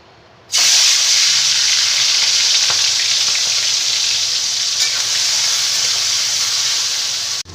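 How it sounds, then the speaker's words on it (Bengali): Prawns coated in salt and turmeric fry in hot oil, starting with a sudden loud sizzle that holds as a steady, dense hiss close by for several seconds, with no voices. "এবার চিংড়ি মাছগুলোকে আমি এই নুন হলুদ দিয়ে মেখে এবার ভেজে নেব"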